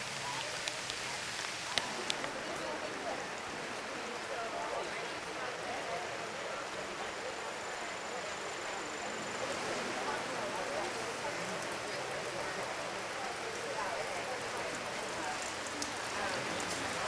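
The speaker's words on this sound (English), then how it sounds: "It started raining about an hour ago, and we're hopeful that it won't be raining for very long" Steady rain falls at an outdoor farm fair, a dense, even patter on surfaces that continues without a break and fills the whole scene at a constant level.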